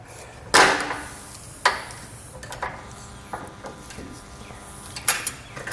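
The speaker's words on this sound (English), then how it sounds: "it should break off once we start bending it back and forth, and again squeezing on the pliers" Pliers bend a piece of metal back and forth until it snaps off while a base plate kit is fitted to a 2003 Jeep Wrangler. Sharp metallic clicks and snaps come at irregular moments, close by, with no speech.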